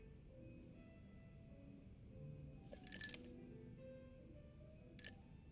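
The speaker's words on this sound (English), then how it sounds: "That glass clinking sound is so perfect." Glass with ice clinking in the video game Yakuza: Like A Dragon: two short, bright clinks, the first around the middle and a fainter one near the end, over a low, steady ambient background.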